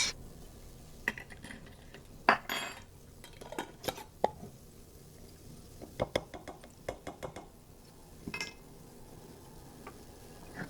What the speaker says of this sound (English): And you're just gonna stir it all up, breaking it up.